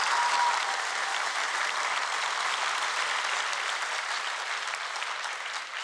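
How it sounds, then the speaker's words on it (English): Audience applauds steadily for the 2025 National Science Bowl national champions, a dense, even wash of clapping from a crowd that carries evenly throughout and tapers slightly at the end. "Another round of applause."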